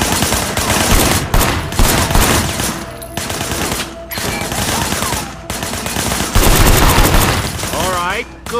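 Rapid gunfire in Sleeping Dogs, with shots fired at objects from cover behind a barricade. The shots come in dense, loud bursts over continuous game noise, and voices talk faintly underneath.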